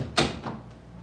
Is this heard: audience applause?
no